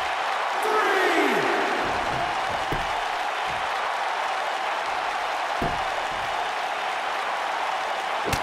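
Arena crowd applauding and cheering in the video game WWE 2K19 during a Last Woman Standing match, a steady dense roar of clapping that fills the whole stretch, with brief voice-like sweeps and thuds over it.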